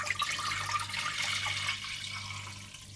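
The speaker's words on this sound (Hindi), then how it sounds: "इसकी यखनी सी तैयार करने के लिए आप 1 लीटर पानी डाल लें" About a litre of water poured into a pot for Kashmiri gushtaba broth, a steady close splashing stream that gradually softens over a low kitchen hum.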